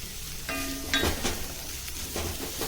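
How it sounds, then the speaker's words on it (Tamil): Chopped onions fry in oil in a pan on low heat, a steady close sizzle broken by a few metallic clinks and scrapes from a stirring spoon, no voices. "இப்போது இது வந்து நல்லா பொன்னிறமாக வதங்கணும்"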